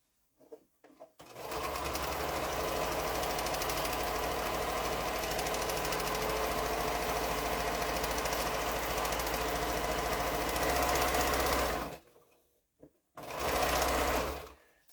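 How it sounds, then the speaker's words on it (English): A sewing machine stitches the last seam of a quilt block, running in one continuous, steady whirring hum close by for about ten seconds, then pausing and starting again for a short final burst. "let's sew this last seam"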